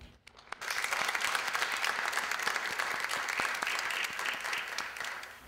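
An audience at an evening speaker event at Montgomery College breaks into applause after a brief quiet moment. Many hands clap in a full, sustained burst that stays fairly even and slowly eases near the end.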